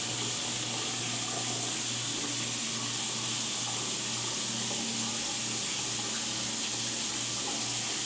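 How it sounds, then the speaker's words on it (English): Water pours from a Delta rain shower head, model 52158-CZ25 rated 2.5 GPM, into a drain as a dense, constant, close hiss that never lets up. "You're gonna see how much water is actually coming out of this thing."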